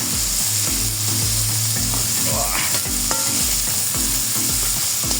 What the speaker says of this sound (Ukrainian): Беремо цибульку і закидуємо на пательню.